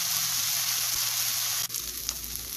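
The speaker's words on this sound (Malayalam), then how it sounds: "ചമ്മന്തിക്ക് ആവശ്യമായ തേങ്ങയും കൂടെ ചേർത്ത് ഇളക്കുവാണ്." Grated coconut and tomato frying for an anchovy fish chammanthi give off a soft, even sizzle, then a scrape of stirring shifts the sound to a rougher, lower frying.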